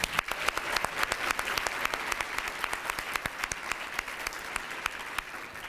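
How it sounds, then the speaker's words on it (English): Conference attendees applaud the event sponsors, a crowd of many hands clapping with distinct sharp claps standing out from the steady patter, moderately loud and sustained. "let's give all of our sponsors a big round of applause"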